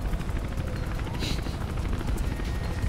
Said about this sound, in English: It's hard as hell to shoot a helicopter.